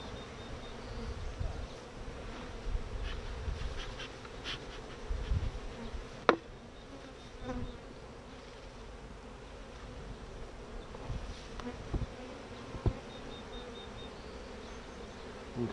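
A dense, steady buzz of honey bees swarms around an open hive during a beekeeping lesson, close and continuous, with occasional clicks and knocks from the frames.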